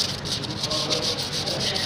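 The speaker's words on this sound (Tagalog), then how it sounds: "So, alisin natin sa pamamagitan nitong liha" Steady scratchy rubbing of sandpaper cleaning a pipe fitting on an oil cooler during repair, continuous and close, with a faint rhythmic back-and-forth texture throughout.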